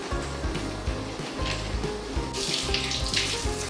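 Warm water runs from a tap while a goldendoodle is rinsed during a bath, a steady close splashing flow with irregular spattering surges toward the end and no talking.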